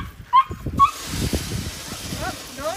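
A farm dog at feeding time gives a couple of high whimpering yelps near the start, followed by shuffling and low bustle, fairly close and moderately loud.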